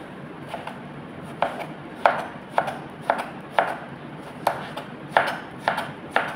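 Knife chopping vegetables such as onion and sweet potato into thin slices on a board, a steady series of sharp, close knocks about two per second over faint background hiss.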